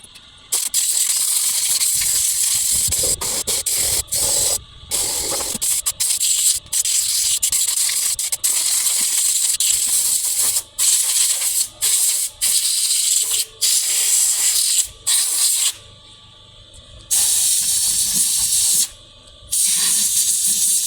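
A pressure washer blasts compound and mud out of a car wheel area in a loud, close, continuous hiss that stops in brief gaps as the trigger is released and restarts.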